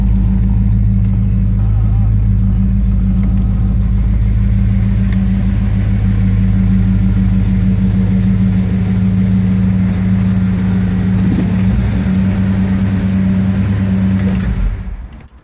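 A 1972 Ford LTD convertible rolls along with its engine rumbling steadily and close under road and wind noise, then fading out near the end, with some talking over it.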